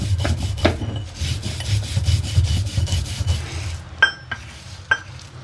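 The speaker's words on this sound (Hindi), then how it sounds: "हम सिलबट्टे में डाल देंगे और इसी के साथ बिल्कुल बारीक पीस लेंगे" Rhythmic rubbing and scraping of a stone roller over a stone grinding slab (sil-batta) as spices and turmeric are ground fine, steady back-and-forth strokes followed by a few sharp clicks of stone on stone near the end.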